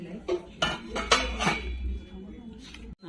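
Metal triply frying pans and saucepans being handled at a cookware sale, several sharp clanks and knocks of metal against metal, close, with people talking nearby.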